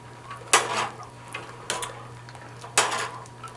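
A spoon stirring pasta in a pot of boiling water, heard as three distinct clinks and scrapes of metal against the pot over a faint steady hum.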